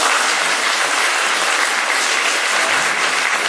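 Steady, dense applause from an audience at a hospital director's lecture for university medical science students, loud and continuous throughout with no pauses.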